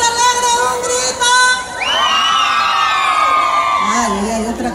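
A live concert audience shouts and cheers loudly in one sustained burst of voices and whoops, dense and close, rising after a performer's call and fading near the end.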